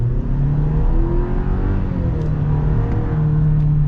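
A 2022 Chevy Silverado 1500 with the 2.7-liter turbo engine accelerates hard, engine note climbing steadily through a gear with a loud, close rising drone and rumble, no talking over it.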